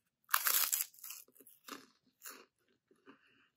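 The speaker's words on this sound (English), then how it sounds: "lately I've been really snacking on rice cakes with vegan cream cheese" Close crunching bites into a rice cake spread with vegan cream cheese, one loud crisp bite followed by several softer chewing crunches that fade out.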